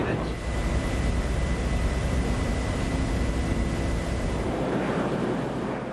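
Engine noise from the unmanned X-36 test plane in flight: a steady, broad jet roar with a faint whine, moderately loud and continuous, partly mixed with wind noise.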